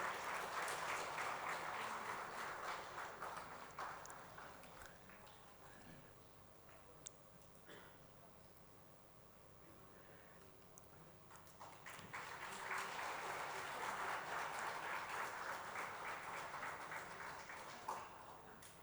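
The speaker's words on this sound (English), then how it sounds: "Please, a round of applause for this wonderful initiative." An audience at a book launch event applauds in two swells, a sustained round of clapping that fades to a quieter patter midway, then rises again before tapering off, heard from some distance.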